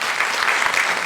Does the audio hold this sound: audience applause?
yes